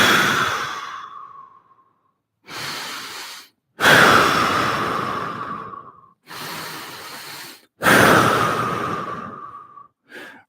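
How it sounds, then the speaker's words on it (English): Slow, audible breaths in through the nose and out through the mouth during a fascial movement session, several long inhale-exhale cycles with brief pauses between, close and clear with no talking. "as we take a few breaths in the nose, out the mouth"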